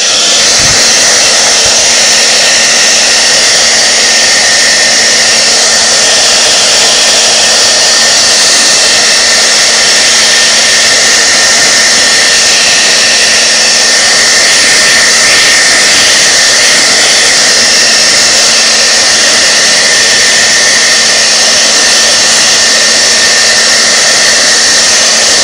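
A hair dryer on a warm, low setting blows a steady, loud broadband whoosh with a faint motor hum over parts of a Singer 301A sewing machine, including the hand wheel, running continuously without pause.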